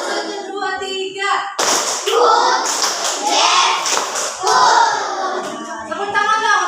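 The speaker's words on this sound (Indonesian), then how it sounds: "Tepuk 1, tepuk 2, tepuk 3, 1, 2, 3." Classroom of children doing a counted clapping routine with their teacher, sharp group claps in a rhythmic pattern mixed with loud chanting voices of the teacher and pupils throughout.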